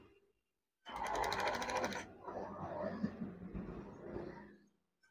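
A sewing machine stitches a wave-style curtain in a short, fast, loud mechanical run, then keeps going more softly and unevenly before stopping, with faint rustling around it.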